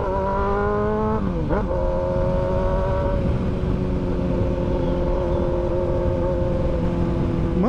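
A 2010–2011 fuel-injected motorcycle engine revs hard and loud from close by, its pitch climbing and dropping sharply a few times before settling into a steady high drone.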